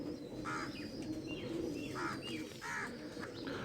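Soft, repeated cooing calls from a purebred pigeon, several short phrases over a steady murmur of outdoor background noise.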